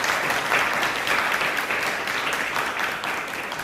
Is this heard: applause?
yes